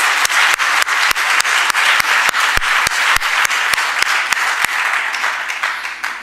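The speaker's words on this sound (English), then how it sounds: "I think they deserve another round of applause." Graduation audience at a training institute ceremony applauds the graduates, a loud, steady roar of many clapping hands with a few sharp, rhythmic claps ringing out close by, tapering slightly toward the end.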